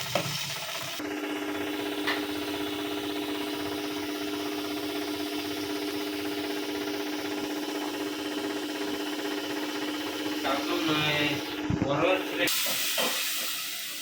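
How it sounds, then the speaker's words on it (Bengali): Potatoes and spices stir-fry in a pan, giving a steady continuous sizzle and hiss with faint scraping, with occasional stirring noises near the end. "আলু আর মশলাটা ভালোভাবে একসাথে কষাই সুন্দর করে"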